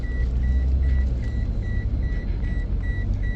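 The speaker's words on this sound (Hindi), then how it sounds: "मम्मा गाड़ी चला रही हैं" A car driven by a mother on a trip to tuition, low steady engine rumble inside the cabin with a repeating electronic beep chiming at regular intervals over it, no talking.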